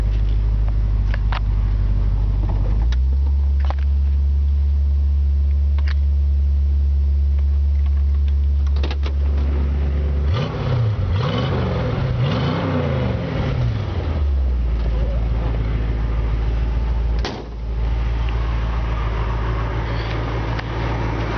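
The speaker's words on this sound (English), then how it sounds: "if you give it some gas, it's got a little bit of an aggressive, muscle car tone to it" A 1967 Ford Mustang convertible idles with a deep rumbling exhaust, then is revved in a few rising and falling blips before settling back to a steady idle, loud and close.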